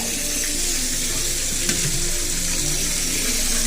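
Onion and panch phoron spices frying in hot oil give a steady, close sizzling hiss with a faint stir partway through, no voices over it.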